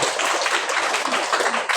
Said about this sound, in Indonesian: Kita tepuk tangan untuk umat Ileke